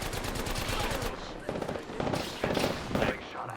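Rapid automatic gunfire in the battle royale game Apex Legends, a dense rattling burst followed by several shorter volleys, loud and close, with voices faintly underneath.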